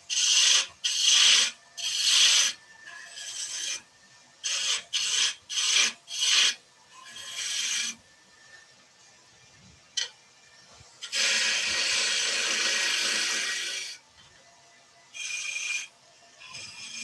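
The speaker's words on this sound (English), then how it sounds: "smooth that curve round a little bit if I need to with some sandpaper" Sandpaper smoothing the curve of a wood-turned piece, heard as close, bright rasping bursts in quick repeated strokes, then a longer continuous sanding pass and a few more short strokes, with no talking.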